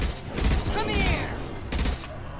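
Mass Effect 2 video game gunfire: loud, dense bursts of shots and rapid automatic fire that keep going throughout, with a voice speaking over the middle of the battle.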